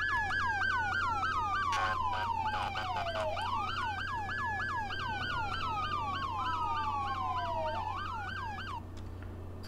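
Many overlapping emergency vehicle sirens in a video game set in Liberty County, wailing and yelping loudly and continuously with rising and falling sweeps, with no talk over them.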